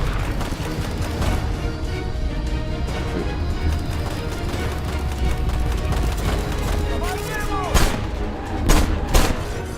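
A grenade explodes amid gunfire in the video game Left Alive, a loud, dense wall of combat noise with booming bursts near the end while a voice talks over it.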